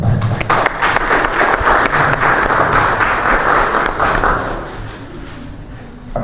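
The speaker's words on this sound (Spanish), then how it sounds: "a quien le damos un fuerte aplauso." Audience at a history lecture in Puebla, Mexico applauding a speaker after an introduction, dense steady clapping from many hands that fades toward the end.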